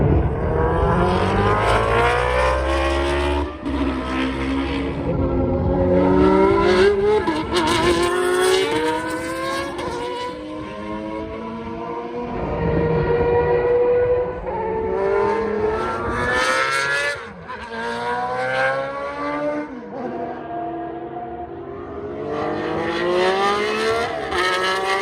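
Historic race cars at the Grand Prix de France Historique roar past on the circuit one after another, loud engines revving up and down through gears in repeated sweeping passes with rising and falling pitch.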